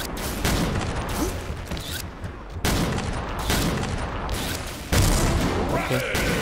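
Video-game gunfire in XSHOT rattles in repeated bursts of rapid shots, some sharp and loud, over busy game noise, with someone speaking now and then.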